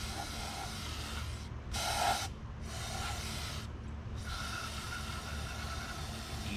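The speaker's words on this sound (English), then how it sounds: "We're gonna spray some of that into this junk." Carb cleaner sprayed from an aerosol can onto greasy Farmall tractor parts, a close hissing stream broken by two short pauses, with workshop rumble underneath.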